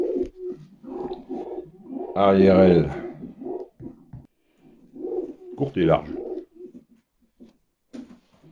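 Racing pigeon cooing while held in the hand during a close inspection, two loud bursts of throaty cooing near the mic, interleaved with someone speaking steadily throughout.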